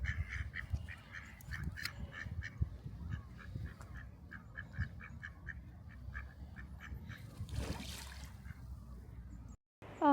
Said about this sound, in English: I love ducks.